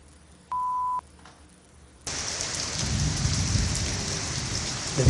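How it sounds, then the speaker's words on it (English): Steady rain pours down outside a house, a loud, dense hiss that starts abruptly after a short electronic beep and a quiet moment, then continues unbroken. "Hey guys, it's raining here. Do you guys want to see the rain?"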